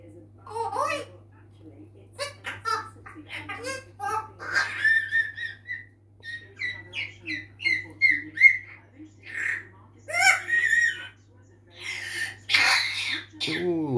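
An African grey parrot imitates coughing among chatter, whistles and babbling, several short raspy bursts scattered through a stretch of bird vocalizing with a steady background hum.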